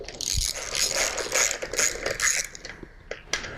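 Ratchet wrench loosening 3/16 Allen head bolts on an OEC 9800 C-arm X-ray unit, a string of close, crisp clicking bursts in a quiet room with no talking.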